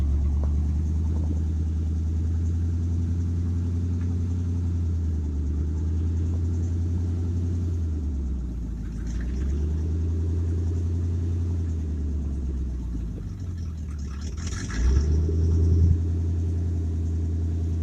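A 1967 Ford 350 truck engine running after start-up, a steady low rumbling idle close by with slight dips and surges in pitch and a brief rise near the end, no talking.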